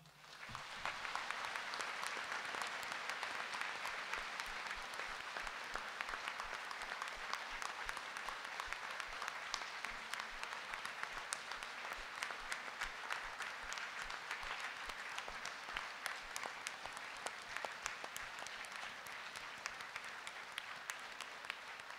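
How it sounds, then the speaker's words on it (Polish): A congregation gathered for prayer before the Eucharist greets Jesus and Mary with long, steady applause, a continuous even roar of many hands, heard from a distance. "dlatego przywitajmy Pana Jezusa i Maryję oklaskami"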